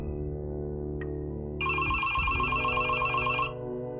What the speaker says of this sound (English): she heard the phone ring.